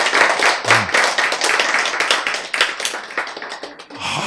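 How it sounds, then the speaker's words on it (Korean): Listeners at a health lecture on natural healing clap together, a loud, close burst of dense, sharp handclaps that continues steadily and tapers near the end, with a brief voice in the background. "우리 박수 한번 보냅시다."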